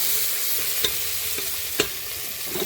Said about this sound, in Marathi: व्हेजिटेबल टाकून घेऊया तेलामध्ये